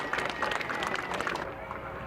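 Audience applause at a Memorial Day ceremony in South Euclid: a dense wash of crowd clapping, fairly close and steady, tapering slightly toward the end with no voices over it.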